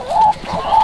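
Backyard chickens cluck softly in a short, close burst of two or three calls, with no talk over them.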